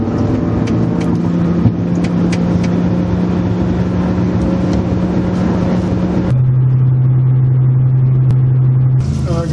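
A BMW engine misfiring on the third cylinder runs as a loud, steady, close drone with a rough rumble, its pitch dropping to a lower idle partway through before rising again at the end.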